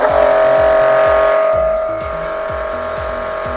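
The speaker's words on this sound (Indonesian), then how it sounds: "Sekarang tinggal kita hidupin mesinnya. Kalau mesin hidup, airnya berhenti." A Kyodo Prowash 118 jet cleaner's electric motor runs loud and steady with a close, continuous whining hum, then settles to a slightly lower, softer drone partway through.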